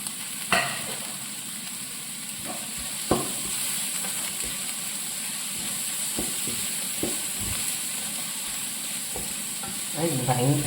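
Crushed ginger and garlic sautéing in hot oil for chicken thoran, a soft continuous sizzle broken by several sharp stirring scrapes and clinks of a spoon against the pan, close and alone.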